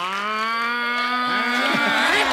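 A man imitates a buffalo's moo as a comedic jab on a family comedy talk show: a loud, sustained low bellow with rich harmonics that wavers and breaks up toward the end, heard alone without talk.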